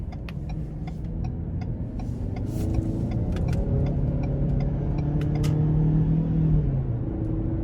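A 2020 Lincoln Corsair Reserve FWD in Sport mode runs under steady engine drone, rising in pitch as it is driven with paddle shifting, with faint ticking clicks over the cabin rumble.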